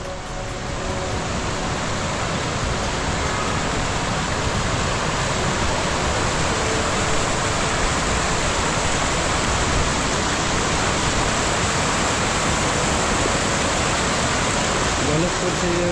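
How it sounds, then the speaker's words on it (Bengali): A river current rushing over stones, a dense, steady broadband roar of flowing water that stays loud and unbroken throughout with no talking. "জলের স্রোত সেই লেভেলে আছে।"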